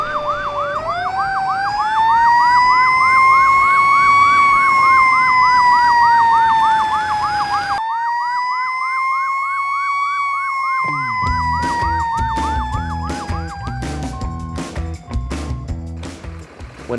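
Emergency vehicle sirens wail loud and near, first a rising and falling wail, then a rapid yelp pattern, with a second siren and a honking horn blast overlapping toward the end.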